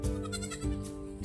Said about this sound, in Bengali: তবে এটা তো আমার ছাগলের বাচ্চা নয়, নাকি আমি ভুল করে অন্য ছাগল নিয়ে আসলাম?